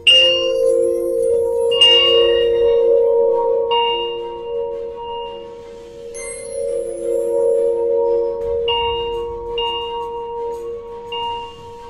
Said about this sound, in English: you can hear this nice wind chime